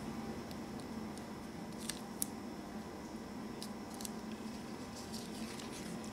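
Scissors cut paper for a handmade birthday shaker card, giving a few faint, light snips and clicks spread over a steady background hiss.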